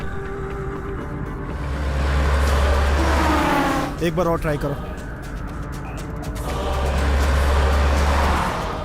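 A car drives fast, its engine droning loudly and swelling twice in long revving surges, with speech and a brief clattering burst in the middle over the constant road noise.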